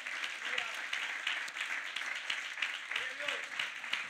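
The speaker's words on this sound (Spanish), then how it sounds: "Denle un fuerte aplauso a nuestro Dios." Congregation in a church service applauding together, a steady dense wash of many hands clapping continuously at moderate loudness, with faint voices mixed in.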